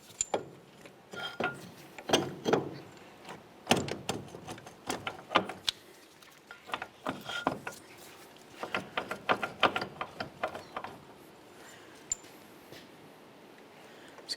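Mounting bolts slide and clink through the steel strut and steering knuckle of a Chevy Cobalt, making sharp metallic taps and scrapes close by. The bursts are quiet and irregular, with short pauses between them.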